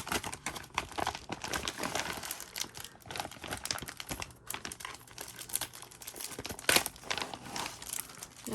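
Thick, sturdy plastic craft supply bag crinkling and crackling steadily close up, dense rustling bursts with a sharper crunch near the end, no voices.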